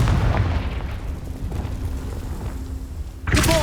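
A Confringo fire spell in Hogwarts Legacy lets out a loud, sustained rumbling blast with booming, crackling texture throughout, ending in a sharper burst of impact at the close.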